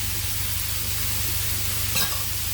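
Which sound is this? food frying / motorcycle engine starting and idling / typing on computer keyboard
food frying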